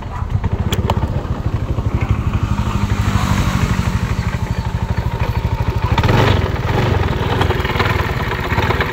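A broken-down Honda motorcycle engine runs nearby with a rapid, rhythmic chugging idle that swells slightly as it revs, loud and continuous throughout.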